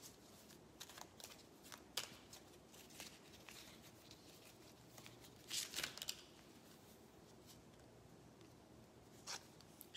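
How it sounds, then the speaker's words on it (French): Oracle cards being shuffled by hand, soft repeated riffling and sliding patter with a louder flurry of card slaps midway, quiet and close with no talking. "Je vais mélanger les cartes."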